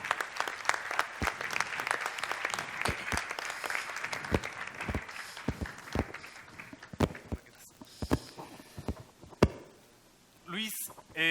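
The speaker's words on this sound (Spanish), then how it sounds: "les pido un fuertísimo aplauso para Luis Aguirre" At a panel debate on knowledge-based entrepreneurship, an audience gives Luis Aguirre a burst of applause that starts dense and then thins into scattered, sharp individual claps before fading out near the end.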